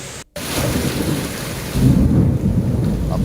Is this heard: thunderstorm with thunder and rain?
yes